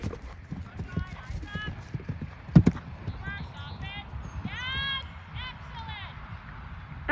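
Horse hooves clip-clop during cross-country schooling at an eventing clinic, a quick uneven run of thuds on firm ground, heard close with people talking over them.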